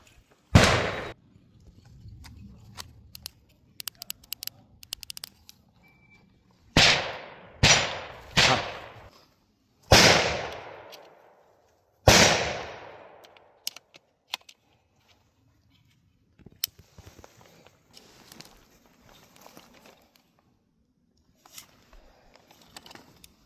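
An airsoft gun with an EOTech EXPS3 replica sight fires while the sight is zeroed outdoors. About ten sharp shots with short echoing tails come in scattered groups, separated by quiet pauses and faint small clicks.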